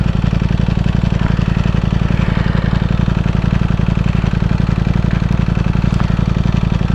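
A motorcycle engine idles in a steady, loud rumble while a new rider works the clutch to pull away, the note holding even and close with no clear revving.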